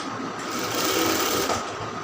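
A sewing machine stitches along a chalk line on a round kameez, with a fast, even mechanical hum and rapid needle chatter running loud and steady the whole time and no voices.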